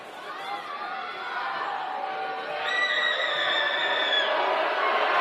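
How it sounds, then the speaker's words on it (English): A crowd of more than a hundred students yells and screams in a high school boys basketball gym during free throws, a steady roar of massed voices that swells louder partway through. "Tough to shoot free throws with a crowd of 100+ students screaming"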